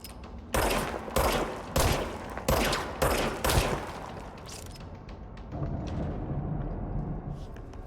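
Repeated bursts of service weapon gunfire in the video game Control, loud and close in five heavy volleys followed by a lingering rumble of impacts and debris.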